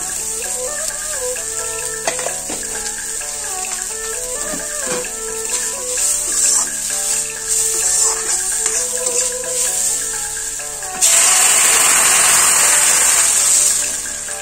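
Water pours into a hot pot of eel cooking with turmeric, a steady hissing sizzle with clanks and a louder gushing burst toward the end, close and with no talking.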